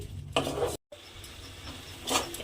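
A spoon stirring cardamom powder into carrot halwa in a pan, close scraping and rubbing strokes with a faint sizzle, broken by a brief dropout.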